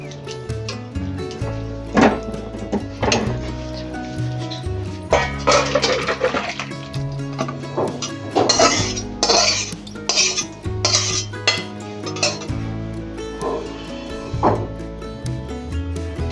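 Clattering pots, pans and utensils in a home kitchen as a pot of dal cooked with fish head is lifted off the stove, with repeated close metallic knocks and scrapes over a steady low background hum.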